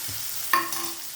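Onions sautéing in a pan for broken wheat upma give a brief, steady close sizzle with one sharp utensil clink partway through.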